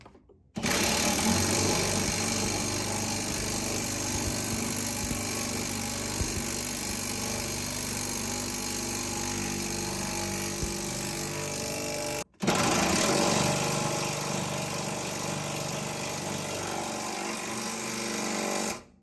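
Impact wrench or power tool tightening a nut on a 2022 GMC Sierra truck during reverse leveling, a loud steady buzzing whir running in two long bursts split by a brief pause, close and with no talk.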